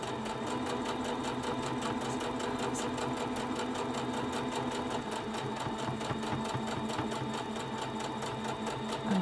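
Sewing machine stitching fabric for a face mask, a steady, close, fast mechanical chatter running continuously without pause at moderate volume, with no talking.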